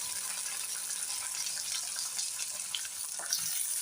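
Green chillies, curry leaves and tomato fry in a hot pan for tomato batata pohe, a steady close hiss of sizzling oil running unbroken with faint stirring clicks.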